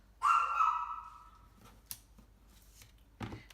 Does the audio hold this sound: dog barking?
yes